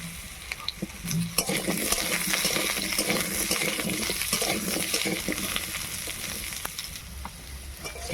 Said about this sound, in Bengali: প্রথমে আলু আপনি সেটাকে ভেজে নিচ্ছি